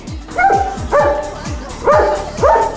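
A German shepherd barks repeatedly, four loud close barks in a steady rhythm, each with a high whining edge.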